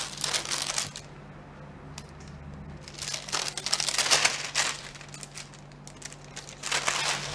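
Cut food being packed into plastic bags, close crinkling and rustling of plastic in several bursts separated by quieter pauses, over a steady low hum.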